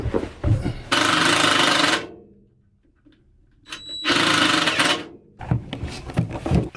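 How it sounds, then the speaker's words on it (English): A self-tapping screw is power-driven into the steel frame of a bus conversion, two loud sustained whirring bursts of about a second each separated by a quiet gap, followed by clattering handling noises. "I'm going to put a self-tapping screw through this to the frame"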